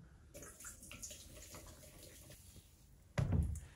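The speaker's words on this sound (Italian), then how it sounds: "diamo magari una leggera sciacquata con poca acqua" Water trickles and splashes briefly as almond flour granita base is rinsed with a little water, with a louder gush of running water near the end.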